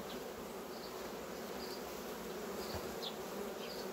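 Honeybees swarming around open hive frames in an apiary give a dense, continuous buzz close to the microphone, with an occasional louder bee passing by and no talking.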